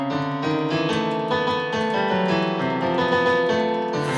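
Piano notes from a small React TypeScript web app keyboard, played back through desktop speakers, sound as a steady run of sustained tones that shift in pitch over about four seconds, with no talking.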